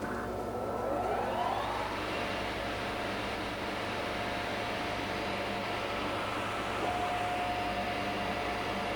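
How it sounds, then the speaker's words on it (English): A Tschudin HTG 410 Swiss super-precision universal cylindrical grinder starts up, with a rising whine as its grinding wheel spins up, then settles into a steady, broad, continuous machine hum and hiss. "The grinding wheel, we're going to start that for you right now."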